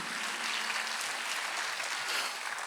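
A church congregation claps during a Sunday worship service, a dense, even roar of many hands clapping at once that holds steady throughout, with no voices.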